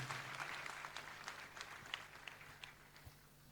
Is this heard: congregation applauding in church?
yes